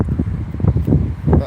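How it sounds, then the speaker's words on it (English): Steady rumbling wind buffets the microphone in a cemetery, a low blustery roar that fills the whole stretch. "so I apologise about the wind noise."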